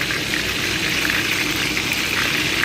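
Rice boiling in a pot of water, a steady close bubbling and churning that continues without pause for a few seconds, with no voices.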